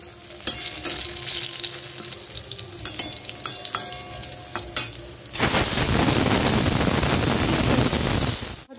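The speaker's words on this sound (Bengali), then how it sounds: "এটার মধ্যে বেগুন ভাজবো।" Eggplant fries in oil in a wok, starting with clinks and scrapes of stirring over a low sizzle, then bursting into a loud, dense, continuous crackle as it hits the hot oil, with no voices.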